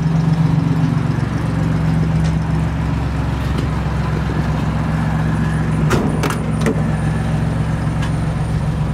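1968 Jeep Commando engine idling and running, a steady close low rumble with a few brief clicks and knocks over it.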